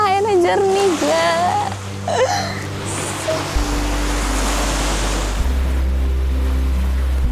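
A voice speaks briefly, then a steady wash of ocean waves and surf carries on at a beach near Goa Jodo in Lampung, Indonesia, with a low continuous hum underneath.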